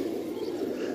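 Pigeons kept for sale, local birds and high flyers, coo softly in a low steady murmur with faint background noise and no talking.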